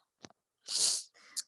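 A single sharp sneeze, close and loud, preceded by a quick intake of breath and followed by a short breathy exhale.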